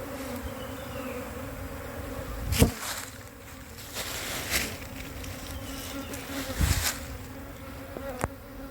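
A bee swarm enters a hive box with a steady, close buzzing hum. Louder passes occur as individual bees fly right by, with no voices.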